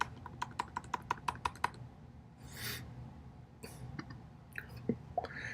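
Keys clatter on a computer keyboard in a quick burst of about ten evenly spaced taps, then a few scattered keystrokes among faint rustles and quiet room noise.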